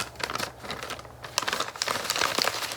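Paper bag being crumpled and handled close up, a dense run of crisp crinkles and crackles in irregular bursts, no talking.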